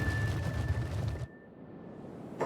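A dense wall of overlapping clanks and hammering from about 1,000 constructors building at once in the video game Kenshi, then it cuts off abruptly, leaving a quiet hum.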